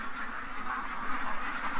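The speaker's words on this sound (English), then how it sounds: "The ducks don't like the fence." Ducks in a backyard by a fence, a dense continuous chorus of quacking close by, steady and fairly loud with no pauses.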